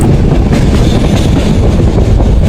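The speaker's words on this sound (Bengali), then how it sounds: "রাতের অন্ধকারে নিস্তব্ধ অবস্থায় চলে চলেছে উদ্যান এক্সপ্রেস" Udayan Express passenger train running through the night between Chattogram and Sylhet, a steady loud rumble of wheels on rails with faint clatter throughout, no voices.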